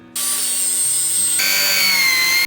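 A circular saw with a fine-tooth red Freud blade cuts through wood for a DIY campervan shower room. It runs as one continuous, loud, whining cut, with the pitch dropping partway through as the blade loads up, then it stops abruptly.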